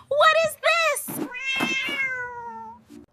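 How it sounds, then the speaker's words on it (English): A cat meowing several times in a guess-the-animal game for kids, the calls rising and falling over a soft background with a clipped sound at the end. "Cat, cat, cat! Cat!"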